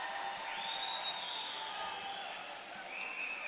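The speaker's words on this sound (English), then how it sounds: "Great crowd on hand at West Branch." A large crowd fills a high school gym during a volleyball match between West Liberty and West Branch, giving a steady roar of murmuring voices and cheers with a few higher sustained squeals or whistles riding over it.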